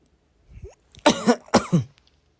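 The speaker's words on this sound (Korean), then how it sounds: "그냥 기침 자꾸 하니까 주변 사람들한테 미안해서 그렇지." Two close, harsh coughs come one after the other, preceded by a brief throat-clearing sound, in an otherwise quiet indoor setting.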